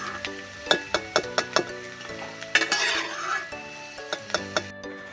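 Peanuts or sago frying in oil in a pan while being stirred until reddish, a steady sizzle broken by sharp, regular clinks of the spatula against the metal, close and fairly loud.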